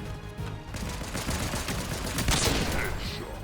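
Rapid gunfire from a mythic pistol in the video game Fortnite bursts loud and dense, a fast continuous volley of close shots with a sharp peak near the middle.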